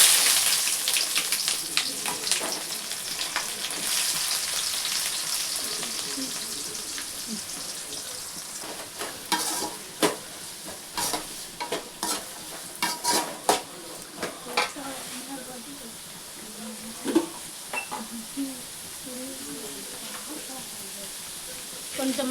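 Onions sautéing with mustard seeds and cumin in a pan for a Sankara fish kulambu: a steady close sizzle with scattered crackles and spatula scrapes, growing choppier toward the end, with a voice talking over part of it.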